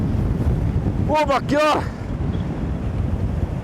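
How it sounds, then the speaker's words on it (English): A strong gust of wind sweeps across an exposed coast, roaring steadily into the microphone, while a person briefly exclaims partway through. "a massive gust of wind just come in then"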